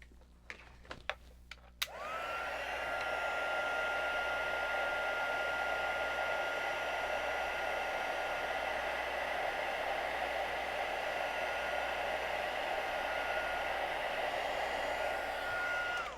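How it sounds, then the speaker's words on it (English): A heat embossing tool blows hot air onto a card in a steady, loud whirring roar that starts after a few small clicks and then runs on unbroken for about fourteen seconds. "that is it for heat embossing for the night"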